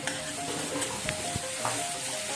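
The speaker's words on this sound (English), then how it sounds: "Then we'll fry 1 chopped onion." Chopped onion sizzles in oil in a wok, a steady close crackle with occasional clicks and scrapes of stirring.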